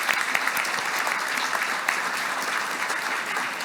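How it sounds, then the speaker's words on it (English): A round of applause from the audience at a security foundation's celebration and honors gala, steady and dense clapping from many people in a banquet hall, heard alone without speech. "let's give them a round of applause"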